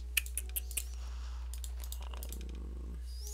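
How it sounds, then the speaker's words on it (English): Keyboard and mouse clicks while playing Minecraft survival, a quick run of sharp taps early on followed by softer scattered clicking over a steady low hum. "A lot of clicking."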